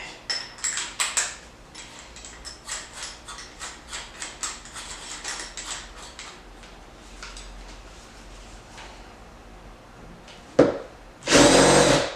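A power drill drives screws into a wooden table leg in short repeated bursts, fairly close, followed by a couple of louder clattering knocks at the end.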